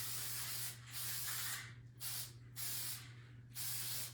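Mod Podge matte spray sealant hisses from an aerosol can onto a vintage primitive rabbit picture frame in four close bursts of about a second each, separated by short pauses, over a low steady hum.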